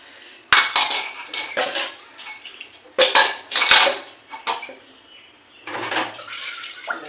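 Metal dishes, pots and plates being washed by hand with water, with repeated clattering, clinking bursts of cutlery and pans knocking together, close and loud, separated by brief pauses and running water.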